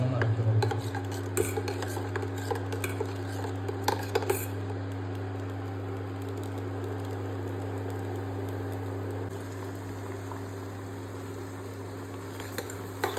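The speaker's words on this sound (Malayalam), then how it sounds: "നമുക്ക് ഇത് ചൂടാകുന്നതിനനുസരിച്ച് നല്ലവണ്ണം ഇളക്കി കൊടുക്കും." Vegetable chilli soup being stirred in a pot on an induction-style heater, with a steady low hum throughout and scattered faint scrapes and clinks of the utensil against the pot.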